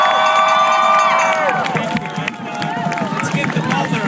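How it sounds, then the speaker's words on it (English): A crowd cheers and shouts at a community gathering in Ottawa, with loud, dense whooping and some clapping, while strong tonal voices or whistles fade in the opening second and a half. "Let's give George the biggest round of applause for organizing all of this today."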